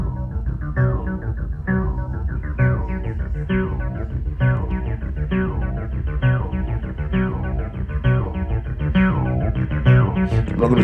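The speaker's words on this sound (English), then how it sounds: "So the circuitry is actually mimicking the circuitry of the actual TB303." A Roland T-8 runs a TB-303-style acid bassline, squelchy filtered notes repeating in a fast, driving pattern, loud and continuous with no voices.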